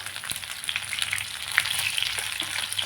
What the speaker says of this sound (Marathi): तेलात आता याच्यात टाकते मी भेंडी